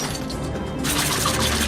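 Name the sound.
glass breaking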